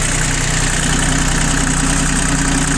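An Iseki TU1500 four-wheel-drive Japanese mini tractor with a three-cylinder K3B engine idles steadily up close, a constant even chugging drone that fills the whole stretch with no talking.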